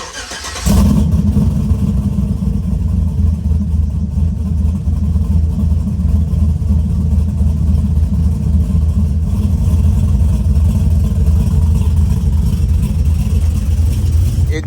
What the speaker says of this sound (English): these fart cans to sound amazing on this cammed V8